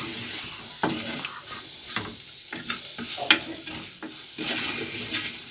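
Egg curry mixture being stirred in a pan, with a steady spoon scraping and a soft sizzle running throughout and a few sharper clinks along the way, no voices.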